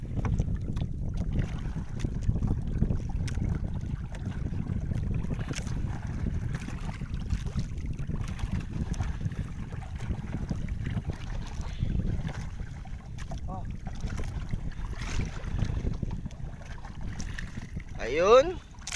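A small fishing boat at sea rocks on the waves, giving a steady low rumble of water and wind buffeting the hull throughout, with scattered distant voices.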